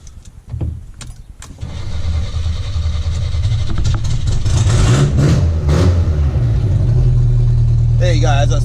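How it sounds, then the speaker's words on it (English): A Datsun 1500 ute's engine cranks and fires after a few short bursts, then settles into a loud, steady idle with a noisy exhaust leak, running continuously to the end. "she's got a bit of an exhaust leak, so she is a bit noisy, but let's fire her up"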